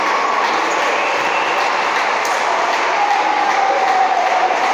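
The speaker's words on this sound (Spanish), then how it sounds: "Aplauden todos los hinchas." Football fans at an amateur club match between Cid Moreno and Ferro applaud and cheer from the stands, making a dense, steady wash of crowd noise that holds loud and even for the whole stretch.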